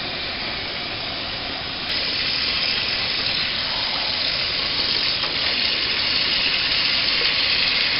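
Duck breasts rinsed under a running kitchen sink tap, a steady loud rush of water that swells slightly about two seconds in and then holds constant, with no voices.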